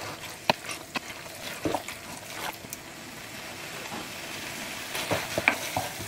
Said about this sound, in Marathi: आता मसालान मिक्स करूया लिवर आनी मांस.